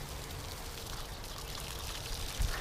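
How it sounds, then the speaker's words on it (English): A garden hose spray nozzle sprays water in a continuous, fairly loud hissing stream, with a small thump near the end. "And then you just pull back the lever and you can adjust so many different streams."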